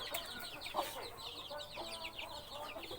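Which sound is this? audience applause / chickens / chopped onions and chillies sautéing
chickens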